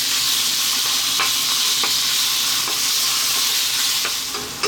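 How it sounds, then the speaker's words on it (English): Thin beef strips sizzle and fry in hot oil in a wok-style pan, a loud steady hiss broken by occasional stirring clicks, with no talk. "start off by dropping in our beef. Nice strips, nice and thin. And we're going to fry this for about 4 to 5 minutes"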